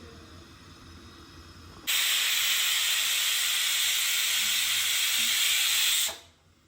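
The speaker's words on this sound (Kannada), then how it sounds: "ಈಗ 2 ಸರಿ ಕುಕ್ಕರ್ ಕೂಗಾಗಿದೆ" A pressure cooker on the stove lets out a loud, steady hissing whistle of escaping steam for about four seconds that then cuts off abruptly, preceded by quieter kitchen background.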